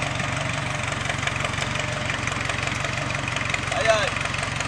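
A steady REO truck engine idles with a low rumbling drone throughout, a faint higher whine briefly rising near the end.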